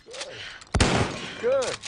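A few gunshots from the film Joy, a sharp loud blast mid-clip with a burst of noise trailing off, amid other scene sounds.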